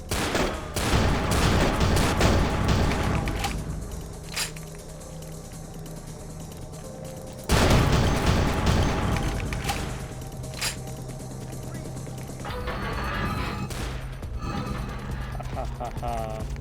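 Gunfire in the video game Vampire the Masquerade, bursts of shots and sustained fusillade at moderate loudness under game sound and a player talking.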